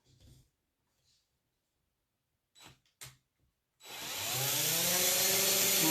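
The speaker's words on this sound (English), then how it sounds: "And now we're going to drill." A power drill spins up and bores steadily into a board for a gnome craft project, a loud continuous whirring that starts after a few quiet taps and handling knocks.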